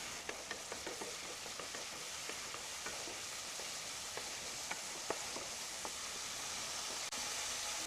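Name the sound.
spice masala with fried potatoes being sautéed in pan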